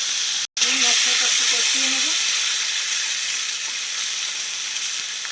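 A spice paste with turmeric and salt fries in a pan with a loud, close sizzle and hiss. It follows a sharp drop-out at the start, and a faint voice briefly hums or speaks underneath.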